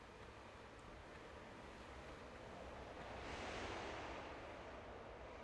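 Faint, steady rushing of water in Tomb Raider 1 Remastered, with a soft swell in the middle and no voices.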